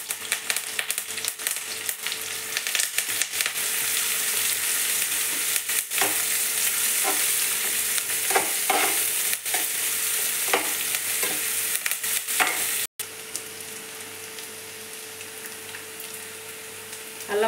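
Green chilies and curry leaves frying in a pan, a constant close sizzle with scattered spoon taps and stirring scrapes, settling into a quieter, steadier hiss after a short drop near the end.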